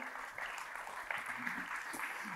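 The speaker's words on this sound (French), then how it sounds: "Maxime de Rostolan, merci. beaucoup, on peut l'applaudir." Applause from a conference audience after a talk on the future of the plant-farming sector, a steady even patter of clapping filling the hall for a couple of seconds with some voices mixed in.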